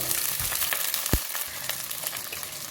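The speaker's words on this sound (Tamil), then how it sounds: "இந்த வெங்காயம் பூண்டு எல்லாத்தையும் கொஞ்சம் நல்லா நம்ம வதக்கிக்கலாம்" Shallots and garlic sautéing in hot oil for a garlic curry, a steady close sizzle and crackle with light stirring and one brief low knock partway through.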